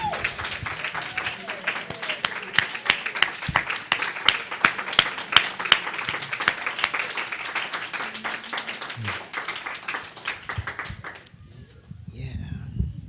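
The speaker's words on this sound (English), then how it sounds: "can we give Cynthia another big round of applause?" A church congregation applauds at a Sunday celebration service, a long run of dense mixed clapping that fades out near the end into quieter room sound.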